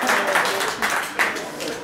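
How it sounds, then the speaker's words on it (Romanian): Audience applause during a talk at an Orange concept store, a brief burst of clapping that rises and swells in waves for about two seconds, mixed with crowd murmur and voices. "Aplauze pentru Orange!"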